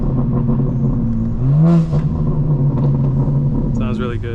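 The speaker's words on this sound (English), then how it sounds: "as soon as I let off, I know there's gonna be a lot of burble" Exhaust of a 2024 BMW M4 burbling and rumbling on lift-off while driving, a steady low drone with a short rising swell and scattered crackle, heard from inside the car.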